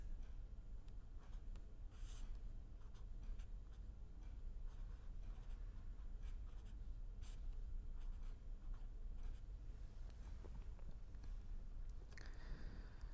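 Chalk or marker strokes as an equation is written on a board during a lecture on beam vibration, a steady run of short scratchy taps against a low room hum, with no talking.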